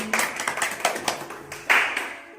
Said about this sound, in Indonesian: kasih tepuk tangan dulu. Tepuk tangan dong.